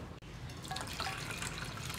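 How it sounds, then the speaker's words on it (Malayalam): Warm jaggery syrup poured into a ragi flour mixture for halwa, a steady close liquid trickle and splash running without a break, with no voices. "ഇനി ഇതിലേക്ക് നമ്മൾ എടുത്തു വെച്ചിരിക്കുന്ന ശർക്കരപ്പാനി ചേർത്ത് കൊടുക്കാം."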